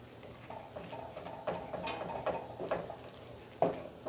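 Stuffed-tomato filling of breadcrumbs, ricotta and mushrooms is stirred in a hot pan, giving soft scraping and light sizzling with a few sharp utensil knocks against the pan, close up.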